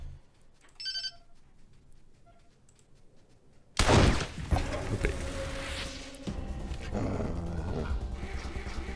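Wolves or dogs growl and roar loudly in Wasteland 2 after a few seconds of quiet, ringing electronic tones. The snarling stays rough and sustained to the end.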